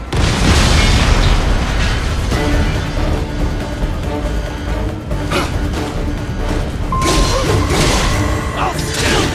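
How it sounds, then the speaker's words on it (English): Loud, booming blasts of a rocket explosion in the video game Metal Gear Rising, rumbling continuously across the whole stretch, with a fresh burst late on and game voices shouting faintly underneath. "Rocket!"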